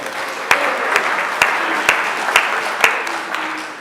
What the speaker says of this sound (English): So you can give her an applause for that too.